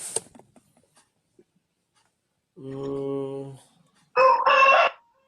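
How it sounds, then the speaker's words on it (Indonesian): A rooster crows somewhere outside, starting with a harmonic middle note and ending in a louder, harsher final stretch, clear and moderately distant, heard during a quiet online chemistry lecture. "Ini siapa ayam mana ya? Jam segini baru kokok ya."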